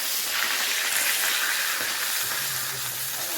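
A fish head frying in hot oil for a cabbage dish gives a steady, close sizzle and hiss that holds evenly throughout, with no talking.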